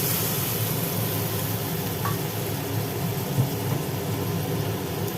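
Poppy seed paste with water and turmeric is stirred in a pan, under a constant sizzle and bubbling. The noise is steady and fairly loud from start to finish, with only faint spoon scrapes.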